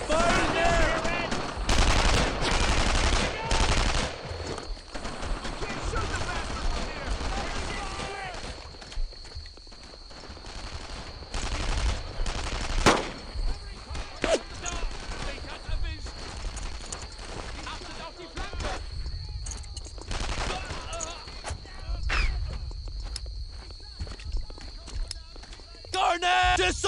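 Machine-gun fire and scattered gunshots in the World War II shooter Brothers in Arms, bursts coming in waves across a busy battlefield with footsteps, while soldiers shout over the noise.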